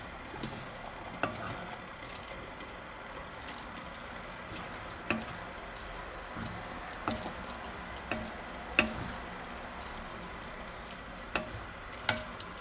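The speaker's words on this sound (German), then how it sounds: "Und dann ist es jetzt schön köcheln." A spaghetti pot sauce seasoned with pepper and paprika simmers steadily, giving a constant low bubbling sizzle with small pops and stirring clinks scattered throughout, close and fairly quiet with no talking.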